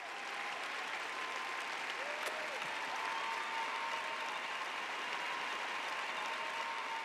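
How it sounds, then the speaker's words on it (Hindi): An audience in a church gathering applauds steadily for several seconds, a moderate, even wash of clapping with no voices rising above it. "मेहरबानी से आप उनके लिए तालियां बजाएं"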